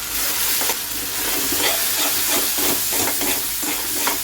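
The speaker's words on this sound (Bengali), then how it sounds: "ডাল বাটাটা দিয়ে নাড়াচাড়া করতে হবে" Ground lentil paste frying in a pan crackles and sizzles loudly and steadily, broken by repeated scraping strokes of stirring at an uneven rhythm, close up with no voices.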